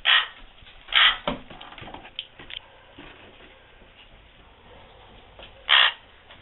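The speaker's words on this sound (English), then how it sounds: "I guess he's a dog." A dog gives a few sharp barks, loud and close, two in quick succession then one more after a pause, with quiet room noise between.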